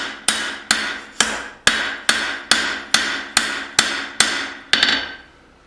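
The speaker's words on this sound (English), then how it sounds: "So I kind of set out to forge this knife." A blacksmith's hammer forging a spring steel knife rings out in about a dozen evenly spaced, sharp metallic blows, close and loud with nothing else over them, then falls quiet.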